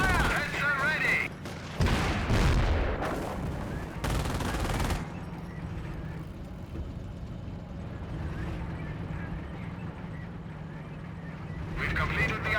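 Battlefield gunfire in the Company of Heroes strategy game: dense bursts of rifle and machine-gun fire with explosions, strongest early then easing into distant rattle, while in-game unit voices talk over it.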